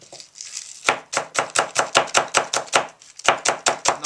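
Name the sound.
chopping cilantro with a knife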